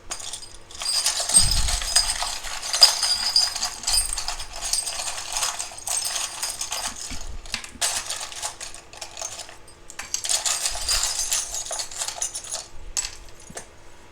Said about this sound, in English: I shuffle around and get you guys some charms